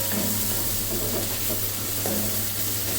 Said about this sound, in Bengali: এক কাপ পেঁয়াজ কুচি দিয়ে পেঁয়াজটা নেড়ে চেড়ে হালকা সতে করে নিতে হবে পেঁয়াজটা